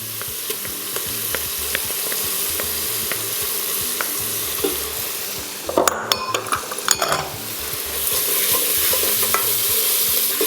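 Spicy okra and beef stew frying in a pot as tomato paste goes in, a steady sizzle with regular stirring, then a burst of metallic clinks and scrapes from utensils before the frying carries on louder, with no talk.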